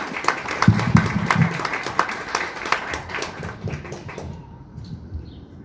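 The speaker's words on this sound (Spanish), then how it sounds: "Un aplauso para nuestro maestro" Applause for a teacher being honoured at an academic talk, a dense crowd clapping steadily for several seconds before thinning out and fading near the end.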